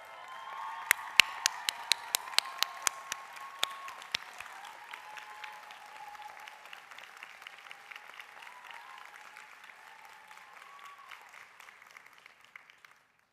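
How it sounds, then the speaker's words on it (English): A standing ovation at a Yale School of Nursing commencement ceremony, opening with a few loud close claps that blend into sustained steady applause from a large hall audience before slowly fading. "let's take a moment to stand and give them a round of applause."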